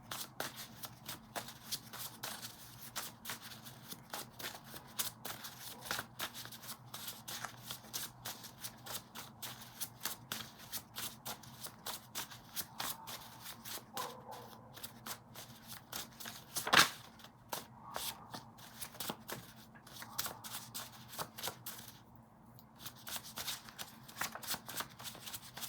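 A tarot deck is shuffled close by with dense, riffling card flutters and quick soft slaps, repeated steadily over a long stretch. One sharper snap is heard partway through.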